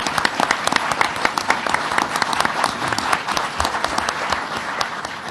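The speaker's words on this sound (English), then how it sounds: "Let's give him a round of applause, Mayor Michael Tucker." A crowd claps for Mayor Michael Tucker at a flood recovery event, with dense, sustained applause from many hands at an even level throughout.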